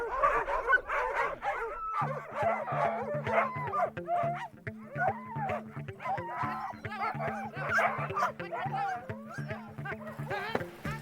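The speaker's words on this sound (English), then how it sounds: "We're off on a 6-dog-powered sled with one puppy in hot pursuit." Team of six sled dogs barking on the Kamchatka Peninsula, an excited continuous chorus of yips, barks and whimpers with a steady low tone underneath from about two seconds on.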